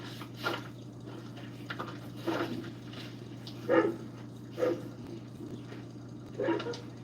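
A dog gives several short, muffled barks and whines, spaced a second or more apart at moderate distance over a steady low hum, with no talking.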